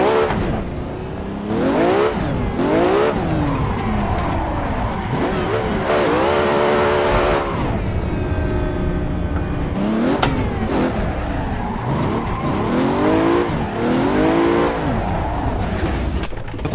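A Ferrari engine revving hard through gear changes in the Assetto Corsa racing game on a drift track, its loud pitch rising and falling repeatedly throughout, with brief tire squeal and no talking over it.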